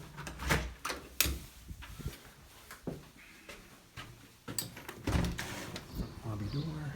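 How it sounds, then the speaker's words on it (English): A lobby door in a South Boston building opens and closes with several thuds and latch clicks, while people talk nearby through the handling. "Lobby door."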